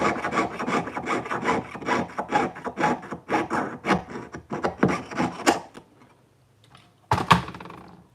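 A hand saw cuts out a small metal clasp piece in quick, even back-and-forth rasping strokes. The strokes stop near the end, followed by a brief silence and a couple of sharp knocks.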